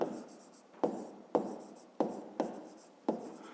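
A pen draws an asterisk in a fifth-grade maths exercise. It is heard as six crisp, close scratching strokes at a quick, uneven pace, each one fading quietly, with no talking.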